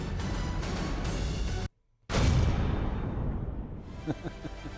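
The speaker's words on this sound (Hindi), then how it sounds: "सुनिए इस धमाके को" A loud, booming blast erupts after a brief silence, its deep rumble slowly fading, with a continuous roar of noise before it.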